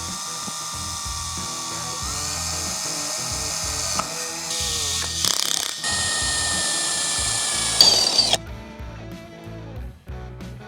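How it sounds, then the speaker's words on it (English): Power drill boring through a camper wall, whining at high pitch in several sustained bursts with pitch shifts as the bit bites, stopping and restarting, close and fairly loud, ending with lighter rattling handling noises. "Time to drill through the camper."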